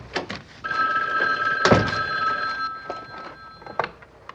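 A telephone rings in a home kitchen, a bright trilling bell sounding for several seconds, with a thump and some faint clatter around it.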